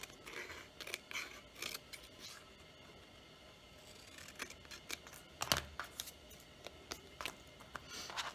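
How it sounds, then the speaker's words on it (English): Scissors snip and trim paper pages for a creative journal collage, a run of short crisp cuts, some single and some in quick clusters, close and fairly quiet with no talking. "And we'll trim that paper down."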